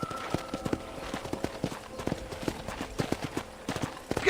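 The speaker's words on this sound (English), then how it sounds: "let's see if you can still ride a horse" Horse hooves pound in a steady, quick galloping rhythm during a ranch ride in the video game Red Dead Redemption, close and continuous over a soft ambient bed.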